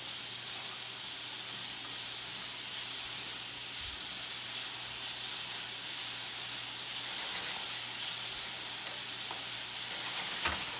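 Ginger and garlic sizzle in a hot pan during a stir-fry, a steady close hiss with faint stirring scrapes running the whole time, no voices.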